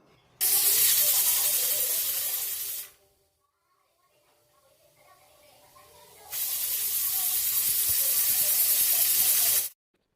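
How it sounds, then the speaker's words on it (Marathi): A pressure cooker cooking mutton whistles: a loud hissing steam release bursts on for a couple of seconds, drops to quiet, then returns with another long, sharp hiss before cutting off. "कुकरचं झाकण लावून तीन ते चार शिट्या काढून घेऊया"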